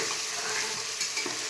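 Green peas and carrot for a spiced veg pulao are stirred in a sizzling frying pan, a brief close burst of bright frying hiss and spoon scraping.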